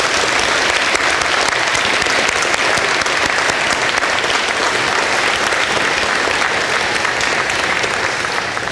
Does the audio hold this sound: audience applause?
yes